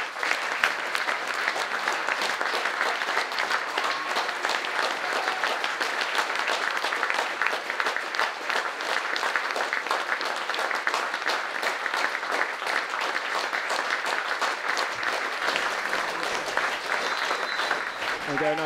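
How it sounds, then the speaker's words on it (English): A crowd at a Tonbridge Angels versus Bath City football match claps steadily and evenly for nearly twenty seconds, heard from a short distance with a faint voice or two mixed in. "a nice healthy round of applause"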